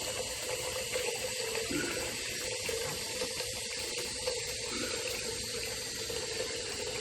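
Water runs steadily from a tap into a sink, a continuous hissing splash that stays loud and even throughout with no voices.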